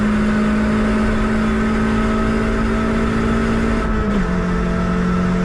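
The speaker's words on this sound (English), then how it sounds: "RPMs are climbing, so we're still accelerating." A Toyota Celica accelerates hard on the Nürburgring. The engine drone is loud and steady from inside the car, with its pitch climbing gradually and a brief shift-like dip near the end.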